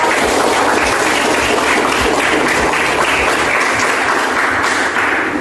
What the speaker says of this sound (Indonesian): Beri aplaus buat kelompok